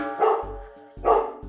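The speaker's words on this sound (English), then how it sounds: "Bark if you like it." A dog barks twice at close range, two loud, separate woofs about a second apart with nobody talking.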